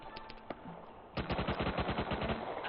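Rapid machine-gun fire in a game: a few scattered shots, then a sustained burst of evenly spaced rounds, loud and close, with no talking.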